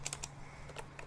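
Quiet keystrokes on a computer keyboard as a command is typed, a few quick clicks in a short burst, close and soft, with no talking.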